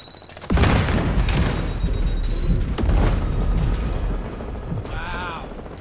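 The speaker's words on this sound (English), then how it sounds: "grenade incoming!" In a Call of Duty Modern Warfare multiplayer beta match, a grenade detonates with a loud, abrupt boom that rolls into sustained rumble and gunfire, a second blast following a couple of seconds later, and a voice calling out briefly near the end.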